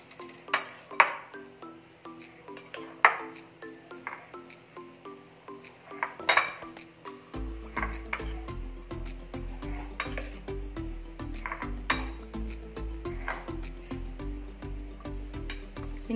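Spoon clinking and scraping in a bowl while sandwich filling with oregano is mixed, with sharp irregular clinks and a steady bed of background music from about halfway through.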